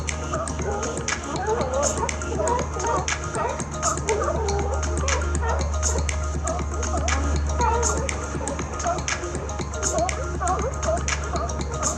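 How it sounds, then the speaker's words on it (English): Repeated barks from many sea lions overlap in a continuous chorus, some near and some farther off, with a low rumble underneath, at La Jolla Cove, San Diego. "the sea lions are the ones barking out there"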